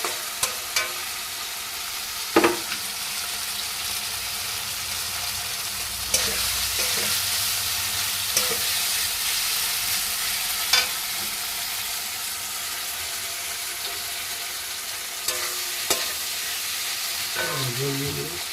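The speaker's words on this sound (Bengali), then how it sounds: "পরিমাণ মতো হলুদ দিয়ে আবার ভালো করে নাড়িয়ে চাড়িয়ে নেবো" Tilapia fish curry with bitter gourd and potato fries in a pan as salt and turmeric are stirred in, giving a constant close sizzle broken by occasional scraping knocks of the spoon, with no talking.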